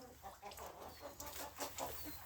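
Trabzon Guguli chickens, hens and a rooster, cluck in a steady series of short repeated calls close by, with a busy farmyard background.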